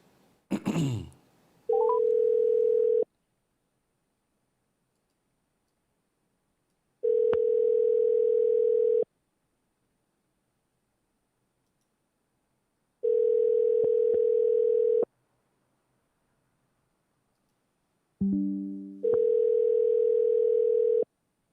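A telephone call fails to connect: after a brief scrape, a busy tone sounds in four evenly spaced steady bursts of about two seconds each, separated by silence, clear and alone.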